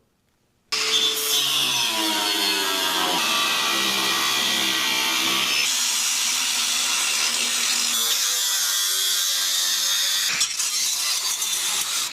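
A power tool cuts away old, worn metal on an auger during a welding repair, making a loud, continuous grinding whine that changes pitch several times, with one brief pause near the end and no speech.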